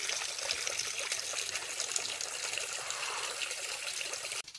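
Small forest creek water flowing steadily beside a jungle campsite, a constant close rush and trickle filling the whole clip, ending with a brief knock.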